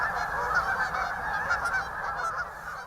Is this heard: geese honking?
yes